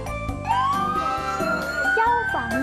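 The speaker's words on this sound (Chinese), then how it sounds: "消防车" A fire truck siren sound effect wails loudly, its tone sliding up and holding before dipping and warbling again, heard alone and close.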